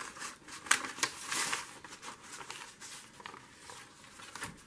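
Scissors snip through paper scraps for a trash-to-treasure journal, making quick, close crisp cuts in a few short bursts with light paper rustling between them.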